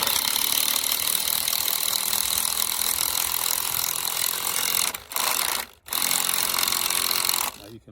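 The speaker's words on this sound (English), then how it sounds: "Now you can laugh at my drill." A small Ryobi cordless drill drives screws into pallet wood for a greenhouse build, a loud, continuous whirring motor with a ratcheting buzz, briefly cutting out twice near the end before stopping, with no talk.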